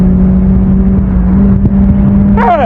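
A car driven recklessly through town keeps up a loud, steady engine drone close by, with a sharp rising whine near the end as it accelerates.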